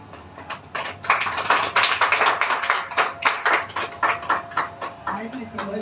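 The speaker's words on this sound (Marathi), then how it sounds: "टाळ्यांचा गजर वाजवायचा।" A gathering at a Sunday Buddhist prayer service claps hands in a steady rhythmic beat. The claps are moderately loud and evenly spaced and keep going for several seconds, with faint murmuring in the background.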